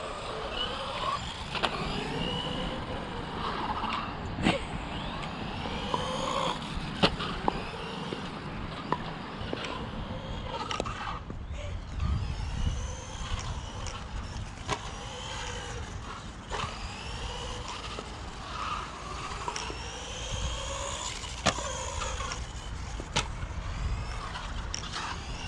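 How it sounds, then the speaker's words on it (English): A 1/14 scale Kraton Sledge mini RC truck gives off high whining screeches and motor whirs that rise and fall over a steady drone, at moderate loudness with no talking. "I love the screeches that this thing makes."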